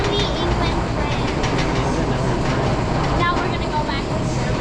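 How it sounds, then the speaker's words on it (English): Steady rumble and rattle of a theme park train ride at Busch Gardens, a continuous rolling clatter heard from close by, with faint voices in the background throughout. "We also got a train ride over here."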